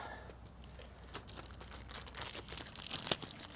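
Plastic wrapping peeled off a Tesla cabin air filter: soft, close crinkles and crackles that grow busier toward the end, with one sharper crunch.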